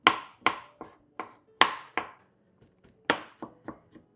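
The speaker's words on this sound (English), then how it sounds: "I got that diced pretty small to my liking" Knife chopping on a cutting board, dicing ingredients very small for a meat marinara sauce: a dozen sharp close thuds in uneven clusters with short pauses between.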